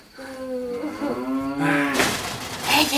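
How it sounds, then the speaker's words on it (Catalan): A close, loud cow moo stretches over most of the moment, a drawn-out bellow with steady pitch that ends in a breathy, noisy release. "Les vaques mugeixen quan tenen les mamelles plenes."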